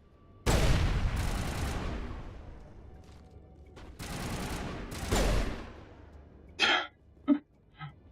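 Gunfire in Mass Effect Legendary Edition, where incendiary rounds are loaded for a headshot: two loud paired bursts of shots separated by a lull, followed by a few short, sharp, higher-pitched impacts near the end.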